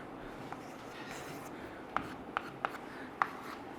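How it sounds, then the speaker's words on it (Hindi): Chalk or marker taps and scratches on a board in a classroom lesson, a few faint short strokes spaced irregularly in a quiet room. "चलो तो लिखते हैं, सेकंड रूल लिखते हैं।"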